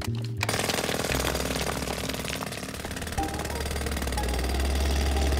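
A cartoon jackhammer pounds continuously at close range, a dense rapid hammering rattle with a low engine drone beneath, loud and steady throughout with no talking.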